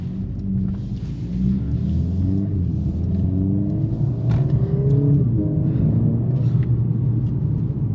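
Mercedes-AMG CLA 45 S 2026 coupe with a 2-liter inline-4 turbo engine, a loud low rumble from inside the cabin, revs climbing and dropping in smooth sweeps, with no talk.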